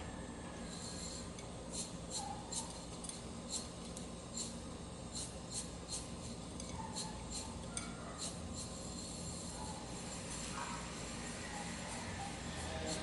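Everything bagel toppings being mixed, a soft, steady rasping stir with light rhythmic scrapes and faint clinks, close and quiet over low background hum.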